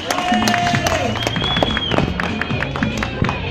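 Audience at a Harley-Davidson pin-up fashion show applauding a model on the runway, steady crowd clapping mixed with cheers, music and a nearby voice over a busy event background.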